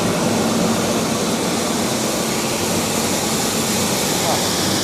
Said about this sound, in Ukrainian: вентилятор задуває гарячий воздух